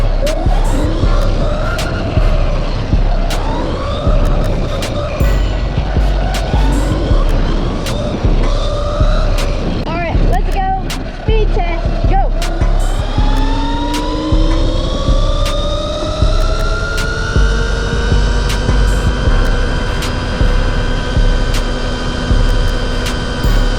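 A MOTOTEC 60v 2000W electric dirt bike running a speed test, its motor whine rising and falling in loud sweeping tones under steady wind rush, climbing into long high pitched accelerations near the end.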